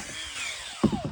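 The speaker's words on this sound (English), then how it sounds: "So I'm just going to drill some holes in the plyboard so it has somewhere to drain to." A power drill bores holes into plywood, a brief whining bite that cuts in loudly near the end of the burst after a quieter spinning run-up.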